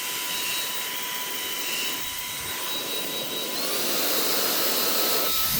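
A Fanttik X100 Mix cordless handheld vacuum runs in blower mode without its filter, giving a steady, loud, close whine with high tonal components that rise in pitch partway through.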